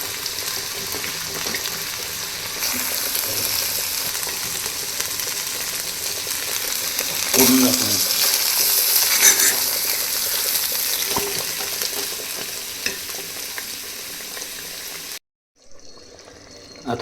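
Masala poured from a ladle into boiling mutton curry in a clay pot sets off a steady, loud bubbling sizzle that swells midway and cuts off abruptly near the end.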